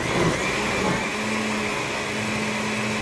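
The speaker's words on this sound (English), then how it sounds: "Blender lang pala ang katapat." Electric blender running while mixing mango de leche flan ingredients in a home kitchen, a loud, steady motor whir and churning roar with a sustained hum, continuous for the whole stretch without talk.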